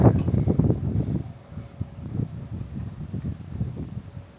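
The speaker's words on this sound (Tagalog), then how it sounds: "Lakas ng hangin." Strong wind on a rooftop deck of a three-storey house, buffeting the microphone in loud, low rumbling gusts that ease somewhat after the first second but keep pulsing unevenly.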